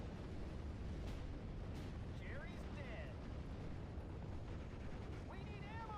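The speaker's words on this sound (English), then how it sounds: "that's an 88 firing" Distant German 88 gun fire in the WWII strategy game Steel Division, a dull boom rolling under continuous battlefield rumble and scattered whistling shells, with a voice talking faintly over it.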